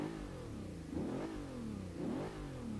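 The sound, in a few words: Bentley Continental GT Speed engine starting, video game Forza Motorsport 6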